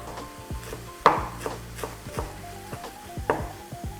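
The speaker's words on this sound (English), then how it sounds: "And I'll be chopping the parsley." Steady knife chops through parsley on a cutting board, a quick irregular rhythm of crisp thuds, close by with no talking.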